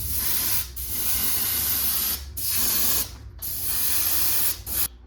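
Purple spray paint hisses onto a pinned swimbait in long, close, steady bursts, broken by a few brief pauses.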